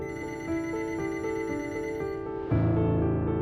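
A telephone bell rings in quick repeated trills, a bright metallic tone pulsing steadily before a louder burst near the end, close and clear with no voices.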